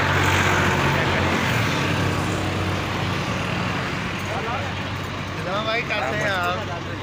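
Vehicle noise from inside a car on a road in Gulmandi, a steady engine and road rumble throughout, with people talking over it in the latter part.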